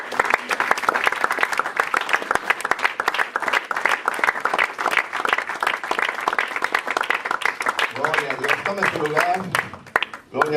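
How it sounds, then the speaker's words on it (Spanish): A church congregation gives a strong round of applause after a sermon, crisp and steady clapping from many hands, then a voice starts talking as the clapping fades near the end. "Dele fuerte el aplauso"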